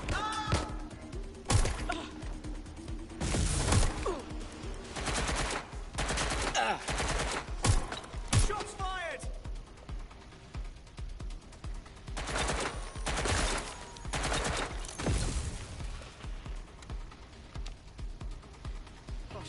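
Bursts of gunfire in Watch Dogs Legion on PS4 ring out repeatedly, loud and close, with rapid volleys and single shots spread across the stretch while voices shout in between.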